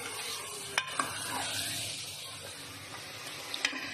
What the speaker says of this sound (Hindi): देखिए टमाटर डाल के इसको अच्छी तरह और भूनना है कि टमाटर गल जाए,